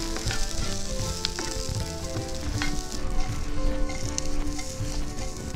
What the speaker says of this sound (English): Just I'll put little bit of oil more so that onion can get fried well.